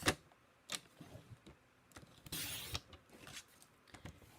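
Cardstock being trimmed to size for a slimline shaker card on a paper trimmer, heard as faint clicks and taps, then a brief scraping slide of the blade across the sheet, quiet and close.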